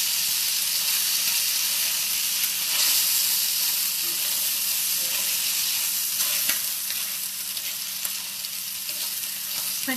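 Wild mushroom pierogi fry in a hot pan with a loud, continuous sizzle and hiss that stays steady for ten seconds, with occasional small pops and no talking.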